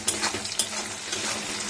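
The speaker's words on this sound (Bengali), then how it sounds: "দেখো বন্ধুরা, পেঁয়াজটা ভাজা ভাজা হয়ে গেছে।" Onions sizzling in hot oil while being stirred in a pan, a steady close frying hiss with scraping stirs, no voices.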